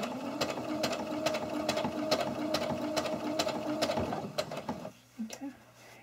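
A sewing machine stitches a seam on a cloth face mask, running steadily with a quick regular needle rhythm for several seconds, then stopping, followed by quiet handling.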